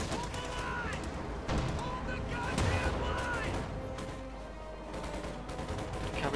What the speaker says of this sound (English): Covering fire there from the Panzer Grenadier.